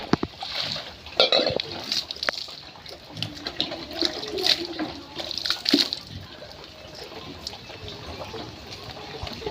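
Water is drawn and poured into a vessel for cooking in a village home, with irregular splashes, gurgles and trickles at close range, some sharper clanks in between, and no talking.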